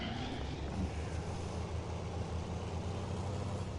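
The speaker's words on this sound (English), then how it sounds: "Can you hear the engine noise?" Engine drone from a vehicle in a multiplayer railway simulation game on an alpine route, a steady low rumble with no talk over it.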